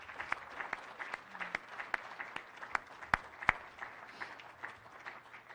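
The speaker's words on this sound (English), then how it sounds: "Let's have one more round of applause in your honor." Banquet guests at a Hall of Fame dinner give a soft, distant round of applause, sparse individual claps standing out sharply from a faint, thin wash of hands.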